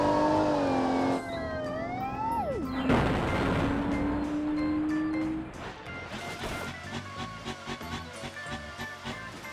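Toy American police car, black, wailing a rising electronic siren under a short crash-like burst, then clattering plastic toy noises close by.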